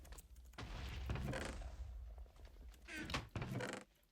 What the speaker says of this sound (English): We're gonna keep hearing explosions until I do